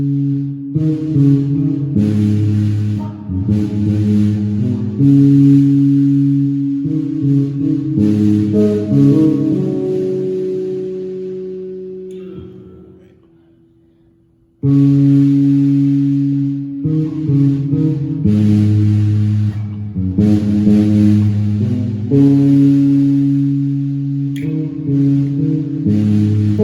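Guitar plays a chord progression with steady strummed chords, a brief drop to near silence midway before the riff resumes, loud and alone without voices.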